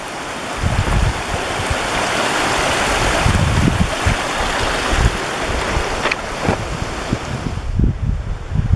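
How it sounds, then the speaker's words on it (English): A small mountain stream on a high San Juan 14er trail in Colorado, a steady loud rushing wash of water close by, mixed with gusty wind buffeting and occasional low thumps. "I have to periodically cross these little streams coming up from the upper reaches."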